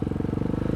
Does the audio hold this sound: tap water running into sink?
no